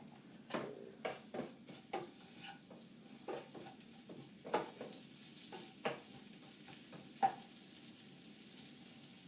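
Mustard and fennel seeds fry in a pan for tangy mango chutney, giving a faint, steady sizzle broken by soft repeated stirring taps and scrapes, with no voices.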